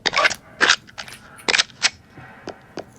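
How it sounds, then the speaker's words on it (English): A kitchen gun fires in the Bonelab video game, loud rapid bursts of crackling shots, a cluster of blasts followed by a few spaced, fainter pops with no talking. "today we have the kitchen gun"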